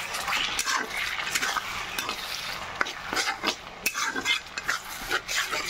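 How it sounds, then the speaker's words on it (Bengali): Spice masala with ginger-garlic paste water being sautéed in a pan for a duck egg curry, with a crackling sizzle and a quick run of spoon scrapes and clinks against the metal pan. "আদা রসুনের যে পেস্টের জলটা আছে, সেই পেস্টের জলটা এর মধ্যে দিয়ে এখন মশলাটা ভালো করে কষিয়ে নেব"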